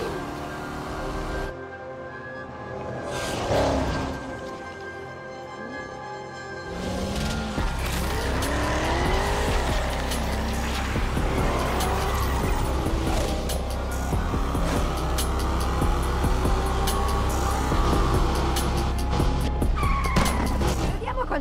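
A fast car in the racing game Need for Speed Unbound revs hard, with repeated tyre squeals and skids over a constant engine roar. Voices talk at times beneath the driving.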